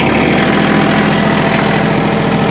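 A diesel tractor engine runs loud and close in cold, windy weather, a steady rough idling rumble with no breaks.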